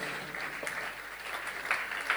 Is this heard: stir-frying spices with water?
no